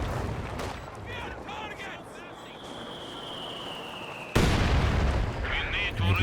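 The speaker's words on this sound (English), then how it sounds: "Heavy mortar team bombing away long range." Heavy mortar rounds fire in a Company of Heroes match with muffled booms under a talking commentator. Whistling shell sounds come first, then a loud, sudden blast and rumble near the end.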